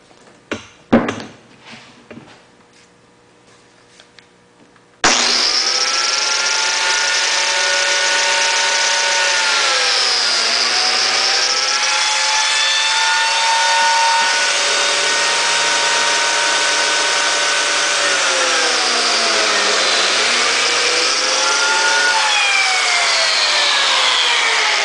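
A plate joiner cuts joint slots in poplar and ash. A few quiet clicks and handling sounds come first, then the motor starts with a sudden loud high whine that holds steady, dipping slightly in pitch as the blade bites into the wood.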